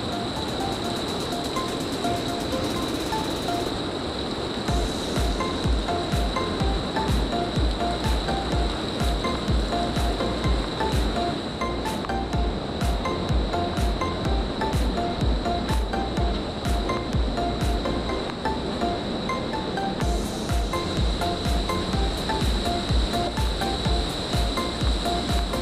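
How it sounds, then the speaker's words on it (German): Water streams steadily down a rock wall along the Höllental route to the Zugspitze, a close, continuous rushing wash with no voices. "Hier läuft das Wasser nur so die Wand runter."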